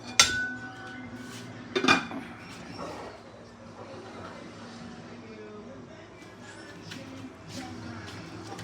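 A metal lid clanks down onto a cooking pot of soup, two sharp clinks close together near the start, then a low steady hum with faint knocks.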